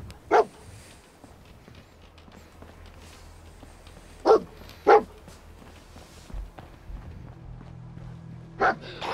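In Fallout VR, the companion dog barks at an enemy, a few sharp, separate barks spread across the span, fairly close, over a low game background with no talking.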